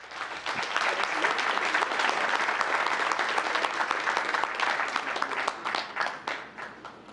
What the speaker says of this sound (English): And a big round of applause for our outstanding Gilbert students.